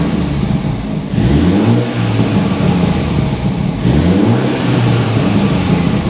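BMW engine in Sport Plus mode revving twice, each rise loud and close with a throaty exhaust note and small pops as it falls back, no voices.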